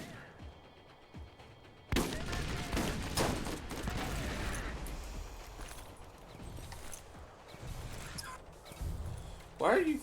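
Thrown grenades burst in the shooter game Borderlands, a sudden loud blast followed by clattering gunfire and more explosions, with people talking over the chaotic combat noise.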